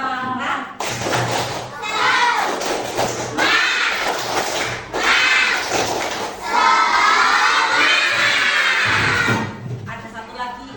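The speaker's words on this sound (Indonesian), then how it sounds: "Kita tepuk semangat dulu. Tepuk semangat." A class of schoolchildren performs the tepuk semangat chant, shouting together in bursts with rhythmic group clapping and thuds in between, loud and close, in a lively classroom.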